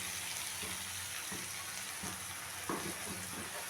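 Mustard and poppy seed paste stirred in a pan, a soft low sizzle with a few dull spatula scrapes and one louder knock near the end, fairly quiet and without talk.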